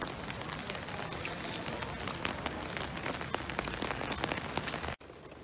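Steady rain patters densely on a hard surface at a pre-season football friendly between Rotherham United and Leicester City, close and continuous with scattered sharp drops, then cutting off abruptly just before the end.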